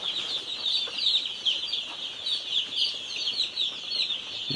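Hundreds of chicks in a game farm barn cheep in a dense, shrill chorus that never lets up, with faint clucking mixed in and no voices.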